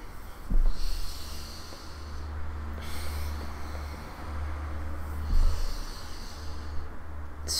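Deep prenatal yoga breathing, slow audible inhales and exhales swelling and fading in long cycles close to the mic over a low steady hum, with no talking.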